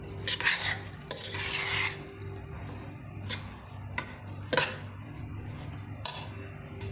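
Spiced rice with fenugreek sprouts being stirred with salt in a pan, intermittent metallic spoon scrapes and clinks over a faint low sizzle, close and sparse.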